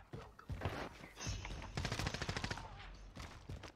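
Rapid bursts of gunfire in the battle royale game Call of Duty: Warzone, loud and close, crackling in quick repeated volleys with talk mixed in.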